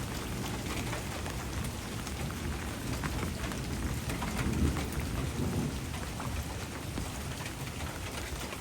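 Heavy rain hisses steadily in a village during a thunderstorm, with a low rumble of thunder swelling midway; no voices.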